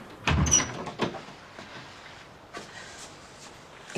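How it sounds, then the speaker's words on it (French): A door is pulled shut indoors in a house with a draft, giving one firm thud followed by a few lighter knocks and rattles that fade into quiet room tone. "Tu peux fermer la porte?"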